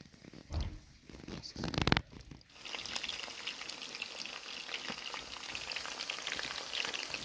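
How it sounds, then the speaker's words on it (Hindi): Boiled chicken pieces go into hot oil with a couple of loud thumps and splashes, then settle into a continuous crackling, popping fry that carries on evenly at moderate loudness. "इसमें हम ऐड कर लेंगे ये चिकन, जो चिकन हमने बॉयल किया था। ये सभी चिकन पीस हम फ्राई कर लेंगे अच्छे से।"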